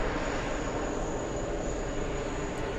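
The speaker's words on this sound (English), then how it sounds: "It's an Airbus A220" A JetBlue Airbus A220 airliner approaches to land on runway 22 right, heard as a steady, broad roar of jet engines at moderate distance without pause.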